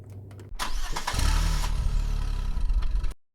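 A car engine cranks briefly, catches and settles into a steady idle close by, running loud for a few seconds before cutting off abruptly.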